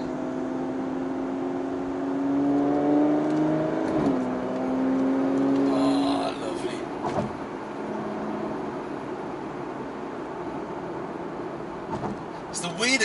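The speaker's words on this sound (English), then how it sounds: "Car sounds that correlates with your feet." Perodua Bezza car engine accelerating from inside the cabin, a rising whirring drone that swells, drops and climbs again through the gears, moderately loud and steady.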